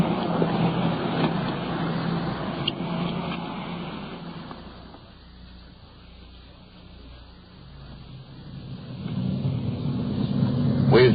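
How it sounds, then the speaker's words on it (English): A car cruising down the road makes a steady low engine and road rumble that softens partway through, then swells louder again toward the end. "We've been driving for better than an hour"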